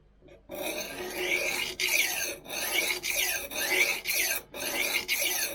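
A Victorinox kitchen knife sharpened on a Spyderco Gauntlet CBN stone gives repeated rasping, squealing strokes in a steady back-and-forth rhythm, close and fairly loud, with brief pauses between passes and no talking.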